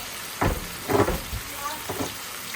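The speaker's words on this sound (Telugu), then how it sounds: "ఆనియన్స్, చిల్లీస్ కూడా వేసేసి ఫ్రై అవ్వాలి" Onions and chillies frying in a pan for broccoli and soya chunk fried rice, a soft continuous sizzle with a few louder bursts of stirring, close by, with no talk.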